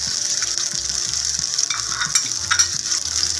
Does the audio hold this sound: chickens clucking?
no